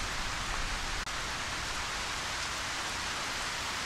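Steady, dense rain hiss in the game Ylands, a constant broadband wash of falling rain with a brief dropout near the one-second mark, with no voices.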